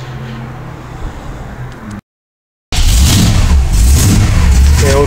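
A Holden car engine with a Trimatic TH180 automatic transmission runs at operating temperature, first as a low steady hum, then after a short silent gap as a louder, fuller running sound close by.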